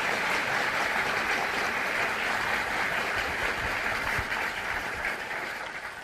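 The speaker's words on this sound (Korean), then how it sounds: "제가 부탁드렸는데 박수 안 치십니까?" Sustained applause from the audience at a justice minister's inauguration speech fills the hall, a dense, even roar of many hands clapping that holds steady and fades a little near the end.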